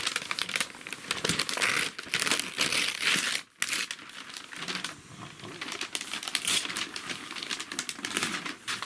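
Christmas wrapping paper crackles and crinkles loudly and close as presents are unwrapped, in long bursts of crumpling with one brief pause partway through.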